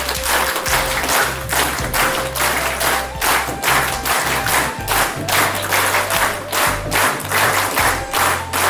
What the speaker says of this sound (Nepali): अलि ताली अहिलेको जस्तो जमेन।